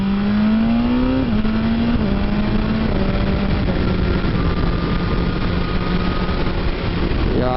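BMW S1000RR 2019 sport motorcycle pulling hard in first gear at partial throttle, a loud steady engine tone climbing in pitch with gear shifts, close and continuous without talk.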